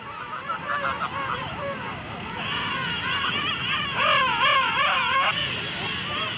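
King penguins call across their colony in loud, wavering, trumpeting cries that overlap one another, with the calling swelling toward the second half amid a constant background murmur.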